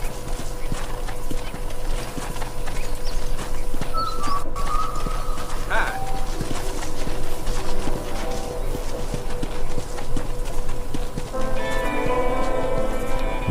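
Steady clip-clop of a horse's hooves while riding at a ranch in the Red Dead Redemption video game, with birds and ambient game sounds layered around the continuous rhythmic footfalls.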